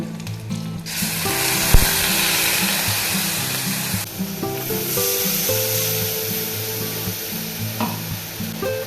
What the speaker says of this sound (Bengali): এবার দিয়ে দিচ্ছি পেস্ট করা পোস্ত